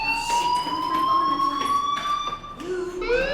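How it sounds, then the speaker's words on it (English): A fire alarm in the video game Life Is Strange rings loud and close as a steady, high electronic tone that holds with slight pitch drift, cuts out briefly, then sounds again. "do you hear that fire alarm?"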